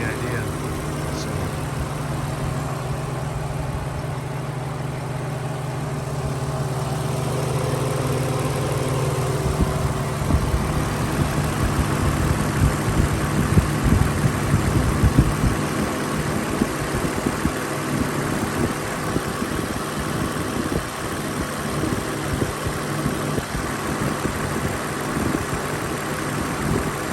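A 2007 Infiniti G35 Coupe fitted with a Motordyne exhaust idles steadily, a smooth, even low rumble with a constant hum that swells slightly partway through and holds close and moderately loud.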